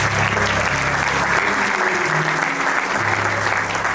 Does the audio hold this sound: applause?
yes